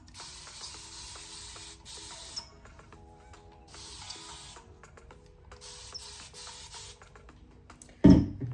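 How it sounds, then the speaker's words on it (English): A spray bottle mists water onto hair in several short hissing bursts spaced a second or two apart, close and moderately loud, followed by a sudden louder thump at the end, with no talk. "So I'm gonna take my spray bottle again"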